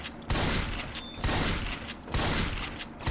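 Rapid bursts of gunfire in a Left 4 Dead–style Minecraft mod game, loud dense volleys repeating in three long salvos separated by short gaps.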